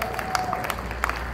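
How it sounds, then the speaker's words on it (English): An audience gives scattered, fairly quiet applause, with a handful of separate claps standing out over a soft background murmur. "Give him a round of applause."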